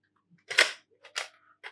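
A wireless microphone's battery cap being unscrewed, heard as a few short, close plastic clicks and scrapes separated by brief pauses, with no talking.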